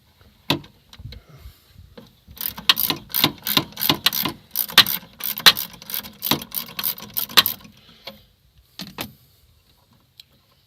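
A brake sensor is worked out of a truck, producing close, sharp mechanical clicks that quicken into a rapid run of snaps before tapering to a few isolated clicks.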